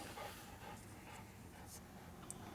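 A frightened dog pants quickly and heavily close by, the quick breaths faint against a quiet room, with a small tap near the end.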